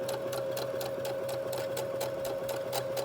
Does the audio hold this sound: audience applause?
no